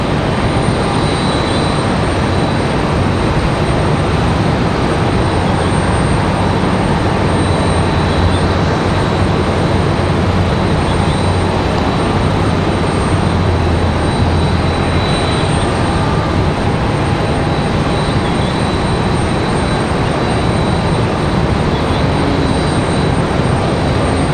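Republic Airways airliner jet engines at Raleigh-Durham International Airport, a steady, loud, broadband roar that holds unbroken for the whole stretch with no voices over it.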